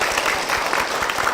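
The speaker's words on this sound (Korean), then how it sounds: "두 분을 위해서 다시 한번 큰 박수 부탁드리겠습니다" A church congregation in Korea applauds warmly, a short, steady burst of many hands clapping at moderate loudness with a faint murmur of voices beneath.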